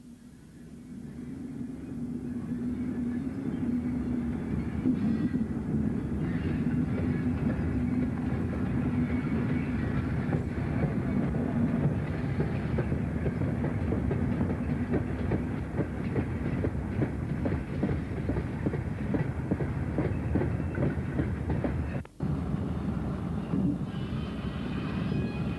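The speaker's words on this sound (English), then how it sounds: "A Class 45 shunts the full coal wagons it has brought up from Dodworth Colliery." A heavy Class 45 diesel locomotive rumbles steadily while shunting full coal wagons, which clatter and click along the rails in a continuous rhythm, with a brief clank near the end.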